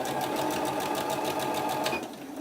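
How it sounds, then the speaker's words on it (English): A sewing machine stitches along the armhole edge of a pillowcase dress, running steadily and close up with a fast, even needle rhythm, easing off slightly near the end. "just try and stitch as close to the edge as you feel comfortable there"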